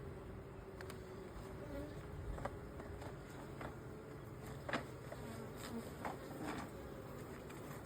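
A steady insect hum of many honey bees buzzing close by at the hive, continuous throughout with occasional louder passes of individual bees.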